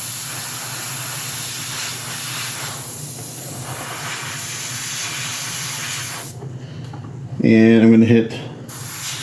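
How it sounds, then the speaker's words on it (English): An airbrush hisses steadily as it sprays very light pink paint onto the cheeks of a 1/3 scale Juggernaut figure, a close continuous airy spray under a few spoken words, ending with a brief louder burst. "I'm going to just airbrush a very light pink onto the cheeks a little bit."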